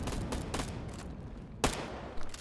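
Rapid bursts of gunfire crack out in a tactical shooter match as defenders pre-fire, a few sharp volleys spaced over a couple of seconds at moderate loudness.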